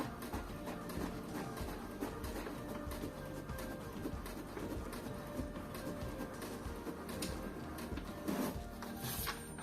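An HP Deskjet 2320 three-in-one inkjet printer runs through a print job with a steady mechanical whir and faint rhythmic clicking, close and continuous throughout.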